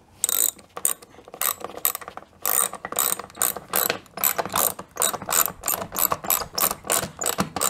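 Screws are driven into a wooden workbench top, about half an inch apart, to make a jig for homemade plant labels. The driver gives repeated sharp, ratcheting clicks in quick bursts with short pauses, close and fairly loud, and no one talks.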